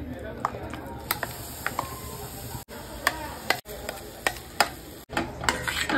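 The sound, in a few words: stirring amla paste in kadhai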